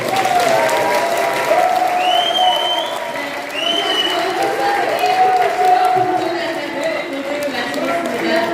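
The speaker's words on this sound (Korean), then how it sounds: "안철수 후보를 위해서 다시 한번 뜨거운 박수" A talk-show crowd gives loud, sustained applause for candidate Ahn Cheol-soo at a general-election strategy event, steady clapping filling the room while a voice speaks over it.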